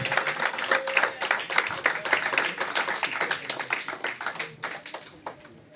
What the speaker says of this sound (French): On acclame pour Jésus, s'il vous plaît.